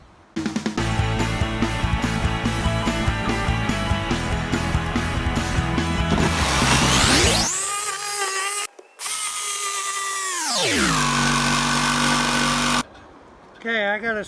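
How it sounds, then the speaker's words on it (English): A power drill whirs steadily while drilling pilot holes in the roof of a Ram Promaster van, then winds up and down in pitch through a couple of loud bursts, close by. "I'm going to drill a couple of pilot holes"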